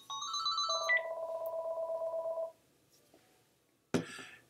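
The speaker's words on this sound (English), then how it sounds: "And my phone is ringing." An indoor phone rings: a few bright, warbling ring tones are followed by a longer trilling ring. Then comes a short quiet pause and a sudden single thump.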